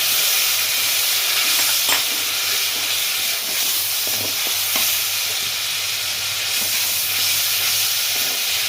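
Onion and garlic paste frying in hot oil, for a prawn and pointed gourd korma, gives a steady, loud, close sizzle and hiss that runs unbroken with a few brief stirring clicks and no talk.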